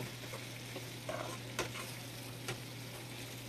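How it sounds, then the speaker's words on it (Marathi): Jackfruit sautés and fries in a pan for a spicy Vidarbha-style sabzi, with a soft steady sizzle and a few faint stirring clinks, quiet and close, no voices. "यांना छान असं परतून हे फणस छान असं फ्राय करून घ्यायचं आहे"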